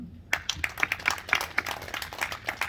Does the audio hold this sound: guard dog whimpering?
no